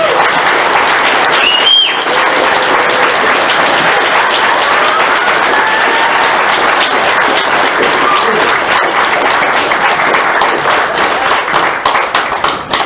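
A large audience at an afternoon talk breaks into long, loud applause, a steady dense wash of many hands clapping that carries on for over twelve seconds with a few brief voices mixed in.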